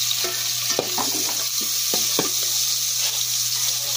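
Onions fry in oil for adobo, a steady sizzle broken by repeated scraping, clinking stirs of a utensil in the pan, close and fairly quiet.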